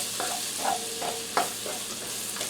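A flour roux with onions cooks in a pan as the base for pot roast gravy, a soft continuous sizzle broken by several scraping stirring strokes and one sharper knock.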